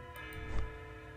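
A wall clock in the visual novel game Slow Damage ticks softly and steadily in a quiet room, a faint regular tick-tock with one slightly louder beat midway.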